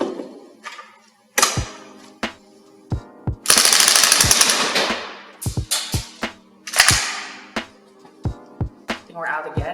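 A Northeast Airsoft Sten MK2 Long Branch Chinese variant gas blowback airsoft gun fires nearby, loud sharp single shots and one brief full-auto burst, with metallic clacks between shots as the gas runs low.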